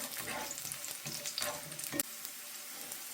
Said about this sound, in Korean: 마늘을 일단 볶고